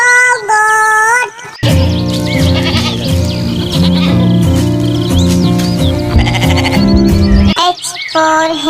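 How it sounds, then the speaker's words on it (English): A goat bleats in a children's alphabet song, its wavering cries standing out clearly at the start and end around a loud stretch of music. "G for goat."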